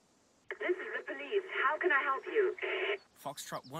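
A telephone is dialed in the video game Autobahn Police Simulator 3, giving a run of short electronic keypad tones in quick irregular succession, fairly loud and clear, followed by a brief burst of higher tones at the end.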